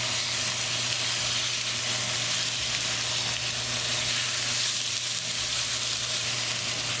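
Strips of pork tenderloin and bell pepper stir-fry in a hot pan, tossed with two forks. A loud, unbroken hiss and sizzle runs throughout, close and steady.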